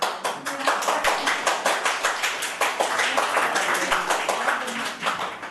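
An audience at a poetry recital during a world poetry festival in Palam, Delhi, claps in a dense, steady round of applause, many hands close and fairly loud, with a voice briefly audible among it.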